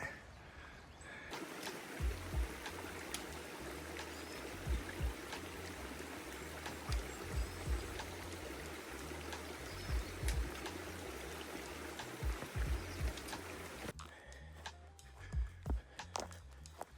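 A creek flows across a hiking trail between Santa Fe and Taos, a soft continuous rush of water heard from nearby with faint low thumps scattered through it.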